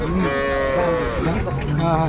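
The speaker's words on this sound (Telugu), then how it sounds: "ఇక్కడ జెర్సీ ఆవు అయితే ఉన్నది" A Jersey cow moos loudly and close by at a cattle market, a long drawn-out low call with a steady tone, with no talking over it.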